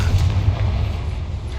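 A Confringo fire spell explodes in Hogwarts Legacy as a deep, rumbling boom that holds loud and steady for over a second, with no speech over it.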